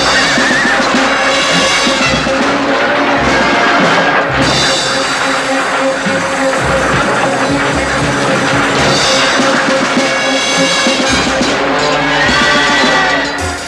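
Horses on a crowded ancient battlefield neigh and whinny repeatedly over a dense, loud background of milling hooves and movement, with no speech.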